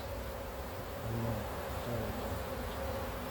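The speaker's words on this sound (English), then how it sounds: "So we gotta got a bunch of bees over here." A steady, dense buzz of many honeybees swarming close by at an open hive during honey pulling, with a faint low hum underneath and no voices.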